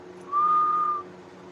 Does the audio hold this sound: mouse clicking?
no